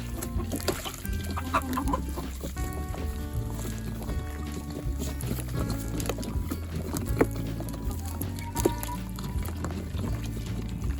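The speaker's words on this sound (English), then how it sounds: "The rooster looking all handsome as he always does in his natural habitat." Chickens and a rooster cluck and murmur in a busy, continuous jumble on a snowy farm, with a few sharper squawks standing out over the low hubbub.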